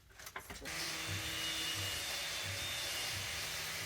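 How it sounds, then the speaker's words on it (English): A steady, loud mechanical whine of a tile cutting machine running continuously, after a few brief knocks at the start. "The tiling machine."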